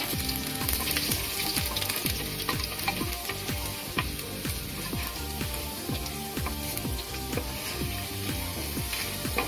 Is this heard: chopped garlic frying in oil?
yes